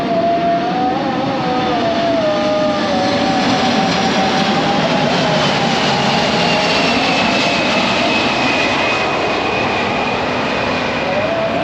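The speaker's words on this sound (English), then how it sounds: "I'm already at the airport, so Soekarno-Hatta." Aircraft engine roar at Soekarno-Hatta airport in Tangerang, a loud, steady broadband rumble with a rising whine, continuous and close for the whole stretch, no talking.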